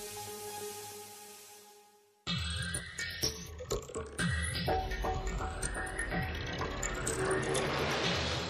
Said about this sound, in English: Then automated machines install the remaining components.